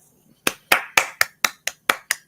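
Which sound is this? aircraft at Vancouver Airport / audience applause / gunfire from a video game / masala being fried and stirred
audience applause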